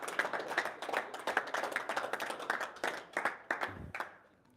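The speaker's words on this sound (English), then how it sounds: "Ladies and gents, big round of applause for Bogdan Stoker and Paul Cruz." Audience at a boxing press conference claps in a lively burst, with distinct, close hand claps in an uneven rhythm that taper off near the end.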